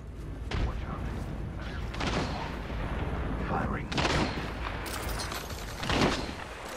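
Weapon fire in Apex Legends, loud repeated blasts and booming shots over a continuous rumble, with bursts peaking at intervals.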